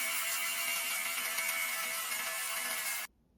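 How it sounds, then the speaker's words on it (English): A small electric fabric shaver runs steadily over a pilled sweater, giving a continuous whirring buzz with faint scratchy rasping, held close and loud for about three seconds before cutting off abruptly. "I'm going to use this little fabric shaver"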